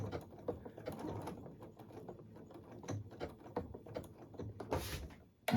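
A sewing machine stitching fabric for a small table runner, a faint, uneven mechanical whirring and patter that comes and goes, with a short sharper burst near the end.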